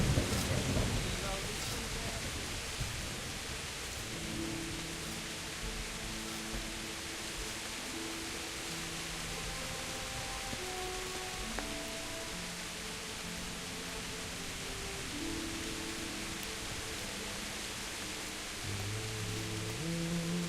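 Steady rain and rolling thunder in the video game Kingdom Come, a constant dense hiss with low rumbles and faint tonal music lines underneath.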